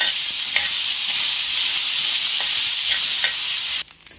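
A spoonful of oil sizzles and hisses steadily in a pan while onions are fried for a red chutney, with a few faint stirring clicks before the frying noise cuts off abruptly near the end.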